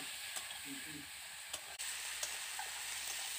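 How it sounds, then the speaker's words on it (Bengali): Potato and pointed gourd sautéing with spices in a pan, a quiet steady sizzle with occasional clicks and scrapes as the mixture is stirred, no voices. "এবার আমি সমস্ত উপকরণগুলোকে ভালো করে কষিয়ে নিচ্ছি।"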